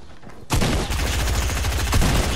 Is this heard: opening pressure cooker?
no